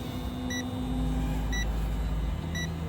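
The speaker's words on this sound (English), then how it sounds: "I don't know why the controller's beeping." A radio transmitter controlling a Tiny Hawk micro quadcopter gives three short, evenly spaced electronic beeps about a second apart, faint over a low outdoor rumble.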